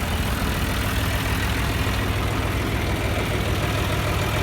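A John Deere tractor engine idles steadily while baling hay, a close, loud, continuous low rumble with even chugging and no voices.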